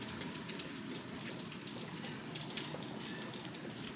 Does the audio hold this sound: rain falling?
yes